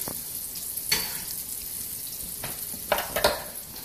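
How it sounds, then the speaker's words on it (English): Garlic and small mushrooms fry in a pan, a steady light sizzle punctuated by a handful of sharp utensil scrapes and clinks as the mix is stirred, close and fairly quiet, with no speech. "Give that a good stir."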